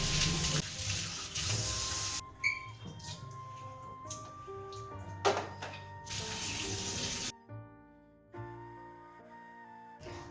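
Tap water runs into a kitchen sink while the sink is being cleaned after washing chicken, a steady splashing stream with clattering and shifting tones as hands and objects move under the flow, no talking.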